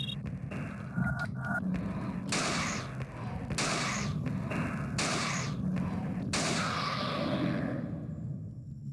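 In the survival horror game Alone in the Dark: The New Nightmare, a gun that fires two bullets per shot lets off about five dull, thudding shots at roughly even intervals over a steady, muffled background.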